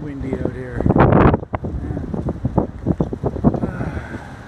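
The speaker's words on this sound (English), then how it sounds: "I think I better get home before it gets too windy out here." Wind blowing outdoors on a gusty day, rumbling against the microphone in bursts, with a strong gust near the start, while someone talks over much of it.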